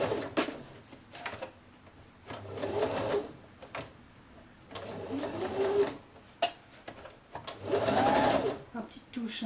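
Sewing machine sewing a second seam about 1 mm from the first on a woman's blouse with a Peter Pan collar, three short whirring bursts separated by pauses, with people talking in between.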